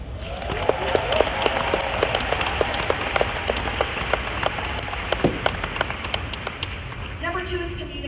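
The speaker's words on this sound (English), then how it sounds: "Would you give our youth a round of applause?" Seminar audience applauding for youth, a dense patter of clapping that holds steady for several seconds with a few sharper claps standing out, and brief voices near the end.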